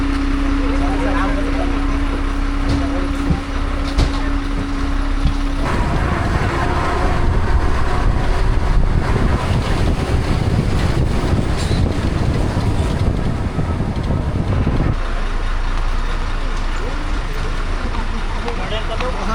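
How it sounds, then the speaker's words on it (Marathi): The Netravati Express pulls into Tivre station on the Konkan Railway, a continuous low rumble and rushing roar with a brief steady tone early on, all heard close and loud. "तिवऱ्यामध्ये गाडी आली"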